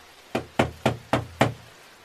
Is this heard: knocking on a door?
yes